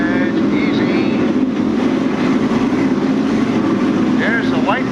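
Modified stock race cars roar around the Riverside Park Speedway oval during a 1996 feature race, a dense continuous engine drone under an announcer's excited commentary.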